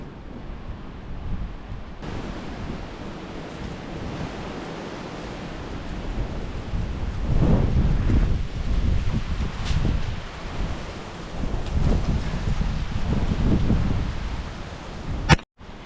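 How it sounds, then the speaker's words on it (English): Strong wind buffeting the microphone in an old rural cemetery at Fort Parker State Park: continuous loud roaring gusts that swell and ebb throughout, with a brief knock near the end. "the wind started blowing like crazy"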